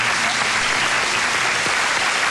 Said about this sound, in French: Je vous demande d'applaudir Ariel Dombal.